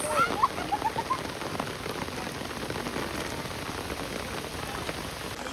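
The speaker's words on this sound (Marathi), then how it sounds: "फुल जोरदार पाऊस" Heavy rain pours down in a dense, steady patter, with a few faint bird chirps near the start.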